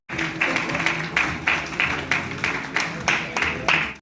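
Audience at a live news conclave clapping in a rhythmic series of about ten even, loud claps, close and steady with no talk.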